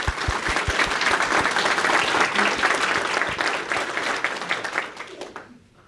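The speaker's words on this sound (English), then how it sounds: "Let's give them a round of applause." Applause from the audience at an East Alabama FAME signing day event, honoring local workforce partners; a loud crowd of clapping that builds, holds, then fades out toward the end.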